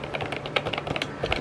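Fingers type on a green computer keyboard in a quick, uneven run of soft, muted key clicks heard up close, with no voices.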